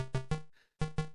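Short electronic beeps in quick pairs, a brief soft noise between them, repeating in a steady rhythm: the running sound of a character in Congo Bongo on the Intellivision.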